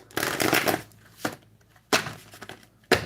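Tarot cards are shuffled by hand in brisk bursts of papery riffling, separated by short pauses, close up with no talking.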